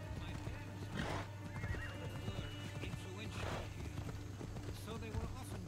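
A horse in the video game Assassin's Creed Odyssey whinnies twice amid rhythmic clip-clop hoofbeats, close and clear over a low steady background hum.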